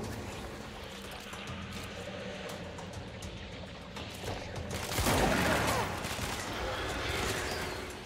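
Gunfire in the action video game Control comes as a dense rattle of shots beneath a rumbling, noisy background, with a louder burst of impacts and debris partway through.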